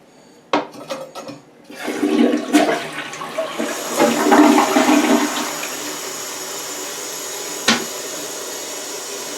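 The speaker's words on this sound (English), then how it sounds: "let's do our first flush and look for leaks and anything." A newly installed toilet flushes close by, a sharp lever clunk followed by a rushing surge of water that drains down into a steady refill hiss, with a clack near the end.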